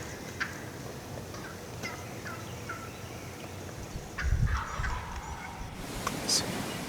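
Wild turkey gobbler calling in a Kentucky field during an opening-day hunt, faint distant gobbles and hen-like yelps amid outdoor background noise, with a louder rustle near the end.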